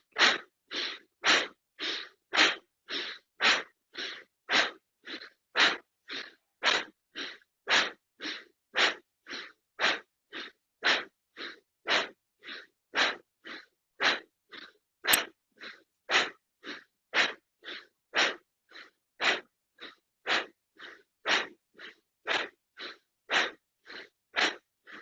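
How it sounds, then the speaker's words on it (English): Forceful, rapid Bhastrika Pranayam breathing: a long, steady series of sharp, loud nasal breaths in an even pulse, about two per second, each a rushing burst of air close to the listener, with no talking. "20 to 25 counts of Bhastrika Pranayam. Inhalation, abdomen expand, exhalation, sucking it in."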